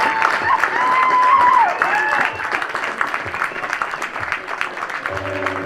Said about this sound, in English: So Early goes 6 and 2/3 innings and gets a rousing applause from the fans here in Buffalo.